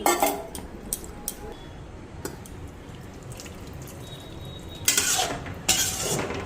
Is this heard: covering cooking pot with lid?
yes